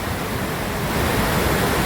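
Dense, steady roar of rushing water pouring over the overflowing Shetrunji Dam near Palitana, a broad close wash of sound with no break and no voices.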